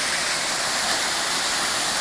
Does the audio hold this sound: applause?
no